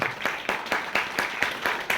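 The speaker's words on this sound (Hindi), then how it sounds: "एक बार मिलने से पहले दमदार ताली होनी चाहिए मिस्टर अरविंद शर्मा सर" An audience cheering for Mr Arvind Sharma at an event claps in a close, steady rhythm, about four claps a second, each one bright and sharp, with no speech over it.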